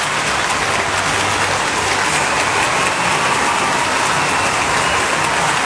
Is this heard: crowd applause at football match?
yes